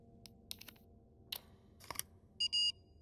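Short electronic beeps and clicks from a game interface in Resident Evil 2 Remake, sparse taps followed by a brighter tonal beep pair near the end, fairly quiet and heard alone without talk.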